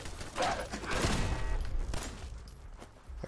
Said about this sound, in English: While I shoot at them with this gun